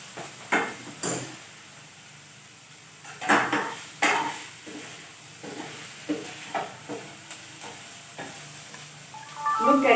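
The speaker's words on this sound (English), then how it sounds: "I'll stir it once." A spoon stirs vegetables with spring onion and coriander in a pan, clinking and scraping against the metal in irregular strokes over a soft sizzle, with a louder burst of scraping near the end.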